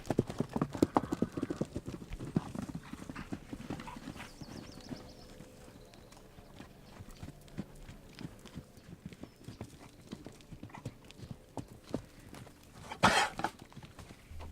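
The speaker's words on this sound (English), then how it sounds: "Quiet mornings are also a great time to visit the horses." Horses' hooves clip-clop on a quiet desert morning at an Arizona ranch, with irregular nearby steps, a heavier burst near the end and occasional faint snorts.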